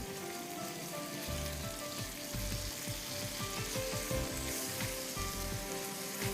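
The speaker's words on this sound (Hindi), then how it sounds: "बस 1-2 झींगे जो बड़े हैं उनको ज़रा स्टर फ्राई करना ज़रूरी है" Large prawns stir-fry in hot oil for spaghetti with garlic and oil, a steady loud sizzle broken by repeated scraping and tossing strokes in the pan, with no voices.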